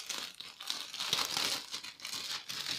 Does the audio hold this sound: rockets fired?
no